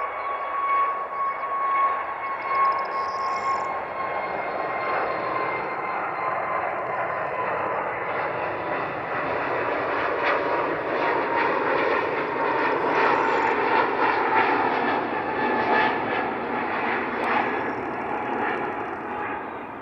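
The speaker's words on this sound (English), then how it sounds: "After a successful slow-speed takeoff demonstration, the A321neo XLR touches down safely" An Airbus A321neo XLR jet during a slow-speed takeoff test, a steady loud roar of engines with a whining tone, sustained throughout without voices.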